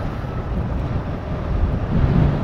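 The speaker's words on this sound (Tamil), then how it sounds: "காற்று அடிக்குது பயங்கரமா" Strong wind roars steadily across the microphone during a solo motorbike ride on a road near Kanyakumari, a loud, continuous rushing buffet that swells slightly toward the end, with no voices.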